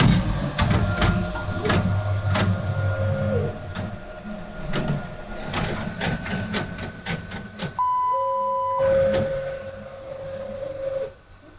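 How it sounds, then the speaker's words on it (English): A Ricoh Ri 4000 DTF transfer printer prints with repeated mechanical clicks and carriage whirs, then a clear electronic beep and a steady motor tone near the end. "We're going to verify this is the job we want to print by pressing yes, and then printing start."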